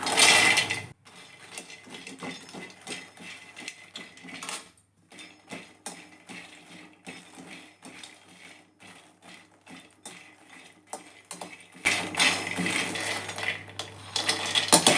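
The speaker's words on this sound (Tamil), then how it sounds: "கடாய் சூடு ஏறினதுக்கப்புறம் நம்ம மக்கானாவை நல்லா வறுக்க போகிறோம்" Fox nuts (makhana) being dry-roasted in a hot kadai, heard as rattling, clinking scrapes of the puffs and a stirring spoon against the metal pan in irregular bursts, closer and busier at the start and end, with no talking.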